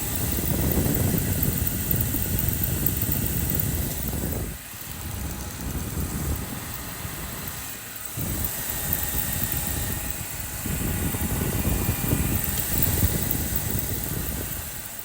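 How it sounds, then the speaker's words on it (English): A 2017 BMW M6 engine runs, recorded close to the belts, giving a steady loud mechanical whir and hum with brief dips in level. "Listen to the sound of the engine."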